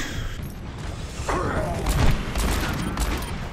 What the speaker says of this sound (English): this is like the slowest gun